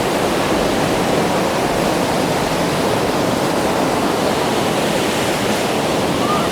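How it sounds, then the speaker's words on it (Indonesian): Waterfall spray and rushing water in Gulmarg or Pahalgam, India: a loud, steady roar of falling water that fills the whole scene with no break. "kena angin, dikasih percikan air terjun"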